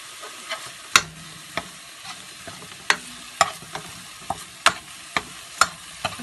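A garlic coriander chicken curry with mushrooms stirred in a pan, a soft low sizzle under repeated sharp spatula clinks and scrapes, about a dozen irregular knocks, close by.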